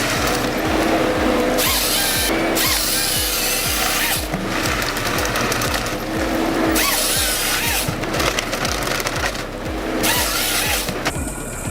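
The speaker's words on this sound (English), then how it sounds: "Here's a close look at the Ponce Ergo 8W harvester working in what the Germans call Starkholz, strong, thick timber." A Ponsse Ergo 8W eight-wheeled forestry harvester works thick timber, its head grinding and rasping through wood in loud, rhythmic repeated pulses under a steady mechanical roar.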